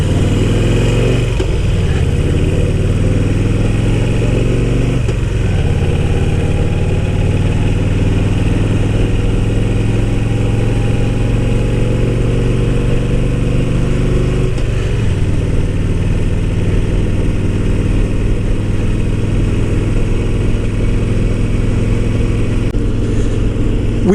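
A motorcycle engine drones steadily on a mountain road climbing toward Big Bear Lake in California, close and loud, with several gear changes where the pitch dips and climbs again.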